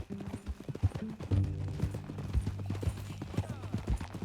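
Horse hooves clip-clop in Red Dead Redemption 2, a steady walking rhythm of close, distinct hoof falls over a low droning background, with no voices.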